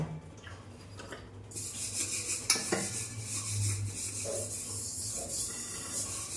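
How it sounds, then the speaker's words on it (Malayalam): Dishes and pots being washed by hand in a home kitchen, with close rubbing and scrubbing and a few clinks of utensils. It plays alone and stays at a fairly even level. "നമുക്ക് കുറച്ച് പാത്രമൊക്കെ കഴുകാനുണ്ട്"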